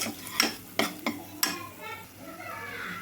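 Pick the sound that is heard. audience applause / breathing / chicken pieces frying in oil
chicken pieces frying in oil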